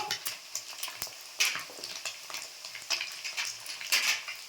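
Spices, coriander and chilli powder, being stirred in a frying pan for home-style chicken chow mein, with a steady frying sizzle and repeated scraping strokes of a utensil against the pan, fairly close, no talking.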